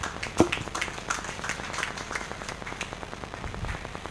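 An audience at a Catholic church career clinic in Lekki applauds a speaker, a moderate, even patter of many hands with one sharp louder clap near the start.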